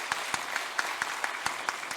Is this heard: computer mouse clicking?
no